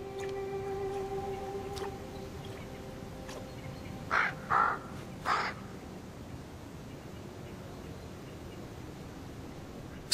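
A black bird, a crow in the Carpathians, gives three loud, harsh caws in quick succession, clear and fairly close against a quiet outdoor background.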